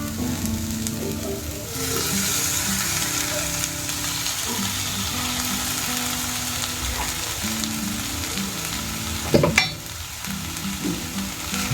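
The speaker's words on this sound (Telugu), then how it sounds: "అటుకుల్ని అంతా కలిపేసి కడిగి పెట్టుకున్న కొత్తిమీర యాడ్ చేస్తున్నాను." Poha (flattened rice) mixed with coriander in a hot pan, a loud continuous sizzle with repeated close stirring scrapes and a sharp clatter near the end, no talk.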